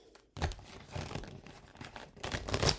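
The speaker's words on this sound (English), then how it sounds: "Let me shuffle it this way." A deck of tarot cards is shuffled close up in a quiet room, a few quick papery riffles and crinkly slides over about three seconds.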